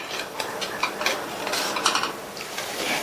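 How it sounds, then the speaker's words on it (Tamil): Tomato gravy bubbling in a pan on the stove, thinned with half a cup of water, giving a steady close sizzle with soft irregular pops and faint ticking spatters, no voices. "கிரேவி நல்லா கொதிக்குது."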